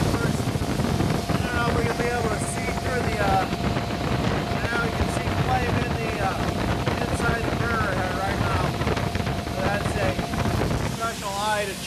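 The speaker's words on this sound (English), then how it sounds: "So here comes the gas burners on. Flames on." The gas burner of a StingRay parts washer fires up and holds a steady, loud broadband roar with a faint whine. Voices murmur indistinctly under the noise until it cuts off near the end.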